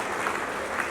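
An audience claps in a dense, steady round of applause that fills the whole short moment, with no voices over it.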